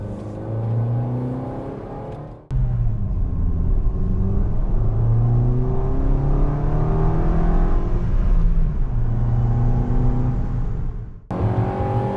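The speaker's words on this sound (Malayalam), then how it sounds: "ആ എഞ്ചിനോട്ട് കേട്ടോ" Maruti Suzuki Ignis engine revving hard while driving, a steady loud rumbling drone with rising harmonic whine as it accelerates, brief gaps at the gear shifts, no voices.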